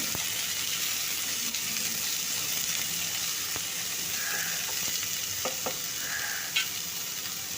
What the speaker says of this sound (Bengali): ডুমো ডুমো করে কেটে নিয়েছি দিয়ে দিয়ে দিলাম দিয়ে এরপর কিছুক্ষণ ভেজে নেবো